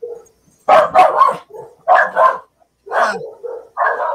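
Several dogs bark in close, loud bursts, a run of sharp barks with short gaps between them, plus a couple of higher yips toward the end.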